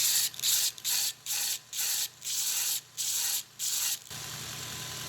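A grinder shapes a blunt tip on a steel marlin spike, sounding in about seven even bursts of loud rasping grinding separated by short pauses, then continuing as a steadier hum.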